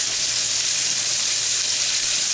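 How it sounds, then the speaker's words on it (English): Sliced Vidalia onions mixed with local onion sizzle steadily in a hot pan, a dense, even frying hiss that stays loud and close throughout with no talking. "the sweetness from that is going to help me deglaze this"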